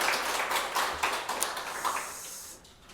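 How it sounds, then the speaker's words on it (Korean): A church congregation claps in thanks and praise, a dense spread of hand claps, fairly loud and swelling slightly before fading out. "감사와 영광의 박수 올려드리겠습니다."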